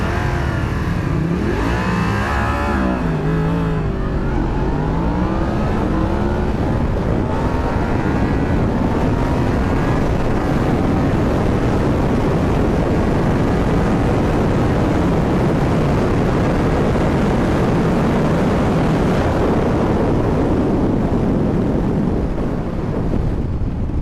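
A Yamaha MT-10SP motorcycle launches on a drag run, engine revving hard and climbing through gears as wind roar builds, loud and sustained for the whole stretch with no talking.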